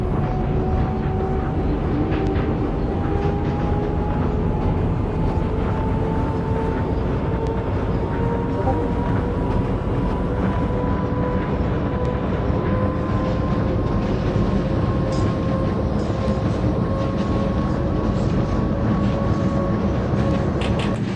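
Simulated NYC Subway R142A train on the 6 line in the OpenBVE game, a steady loud rumble with a slowly rising electric motor whine held across the whole stretch.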